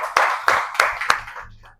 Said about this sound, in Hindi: इनके लिए बार तालियां बजा दें।